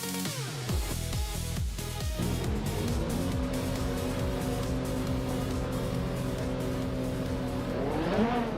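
Several race cars launching off the line at the start of a LEGO Speed Champions track race in a video game: engines revving and rising through gears together, a dense steady motor drone with pitch sweeps, no talking.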